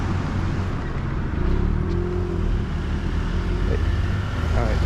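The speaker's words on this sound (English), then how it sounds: "Cars everywhere" Steady road traffic rumbling along a street in Krakow's former Jewish Ghetto, cars passing continuously at moderate distance with a broad low roar and no clear breaks.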